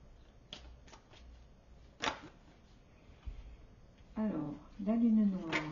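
Tarot cards being shuffled for a reading give a few soft, quick riffling bursts, close and fairly quiet, followed by someone speaking.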